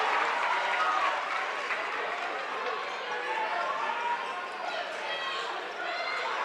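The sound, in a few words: crowd applause at a basketball game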